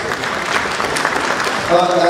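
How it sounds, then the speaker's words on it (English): Audience applause welcoming Jenny back on screen at a Kannada film event, a dense wash of clapping with crowd noise that swells slightly near the end. "Please give her a huge round of applause."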